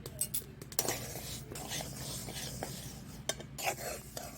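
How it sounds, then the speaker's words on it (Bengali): Mung dal roasting in a pan for khichuri, 500 grams of lentils stirred with a utensil, soft scraping and occasional clinks of metal over a faint dry sizzle, quiet and close. "খিচুড়ি করব তার জন্য প্রথমে মুগের ডালটা ভেজে নিচ্ছি"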